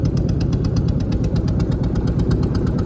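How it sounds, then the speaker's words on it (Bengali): A motor boat engine chugs steadily as the boat cruises along the sea between mangrove forest and open water, a close, rhythmic low throb with fast regular ticking and no talk. "এর মাঝে দিয়ে চলছে আমাদের নৌকা"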